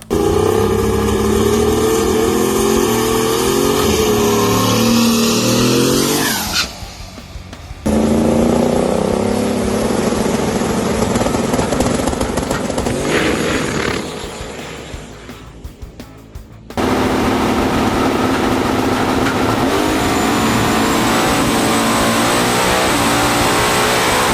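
HEMI-powered blow-through carbureted drag car making a full quarter-mile pass at a drag strip, a loud, sustained roaring engine that rises in pitch through gear changes with brief dips between shifts, fading as it pulls away.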